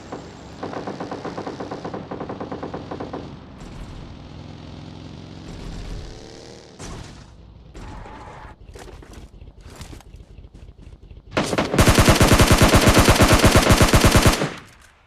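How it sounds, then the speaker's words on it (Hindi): PUBG video game gunfire crackles in bursts and scattered single shots, building to a loud, sustained automatic volley near the end. "तो जिससे मुझे गन का साउंड आता है।"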